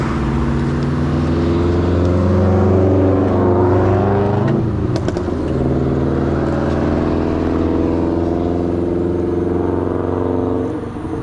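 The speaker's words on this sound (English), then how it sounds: "That's a loud car." A loud car engine rumbling close by on a trail loop, a heavy, sustained drone that swells and shifts pitch midway as it passes, then carries on steadily.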